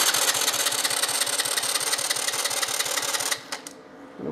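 A quad bike engine catches after choke is applied and runs with a rapid, steady putter for over three seconds, then cuts out abruptly, leaving a few faint clicks and near silence.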